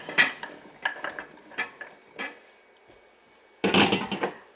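Carrots and potatoes dropped into a pot with pork tenderloins for a pot roast, a run of close wooden knocks and thuds, then a louder clattering tumble of pieces near the end.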